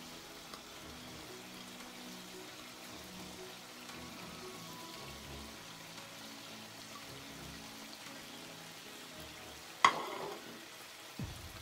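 Chicken karahi sizzles steadily in the pan as tomatoes are set on top, a continuous close frying hiss with a sharper clatter near the end.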